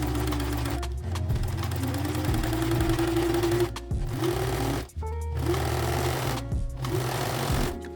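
A sewing machine stitches mesh yarn for a butterfly mesh top, its rapid needle chatter running loud and close in long steady runs broken by brief pauses.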